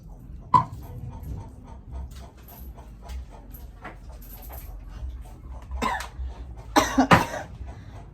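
Several short coughs come in bursts, a sharp one early and a louder cluster near the end, over a low background rumble, with no talking.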